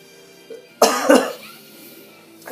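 A person nearby coughs twice in quick succession. Each cough is a sharp, loud burst, followed by a short fading rasp against a quiet background.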